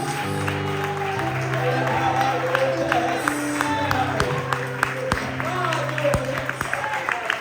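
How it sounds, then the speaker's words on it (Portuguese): A church congregation claps during a deliverance service, a continuous spread of applause running beneath sustained music and a voice talking over it. "aplauda o Senhor Jesus"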